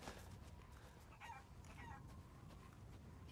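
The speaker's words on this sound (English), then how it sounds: "I guess there's only two chickens here." Chickens in Resident Evil Village cluck faintly, a few short clucks in the middle under a steady, hissy ambient bed, distant and quiet with no talking.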